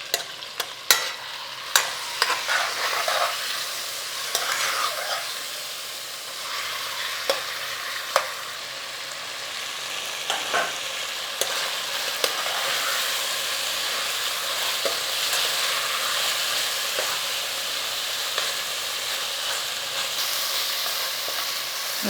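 Chicken pieces for a chicken jalfrezi fry and sizzle steadily in a pan, with repeated sharp scrapes and clatters of stirring throughout, close and fairly loud, no voices.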